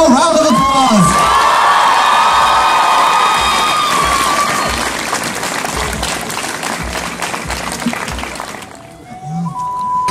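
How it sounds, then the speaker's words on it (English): A crowd at the closing of a multi-day strength competition event applauds and cheers loudly, with whoops and shouts over steady clapping that fades near the end, and voices are audible in the mix. "Let's give him 1 final round of applause!"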